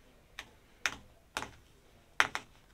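A new Stanley knife cuts away the stitches of a seat cover pinned to a workbench, with the threads held under tension. Four sharp, quiet snicks land at irregular intervals, each followed by a small second click.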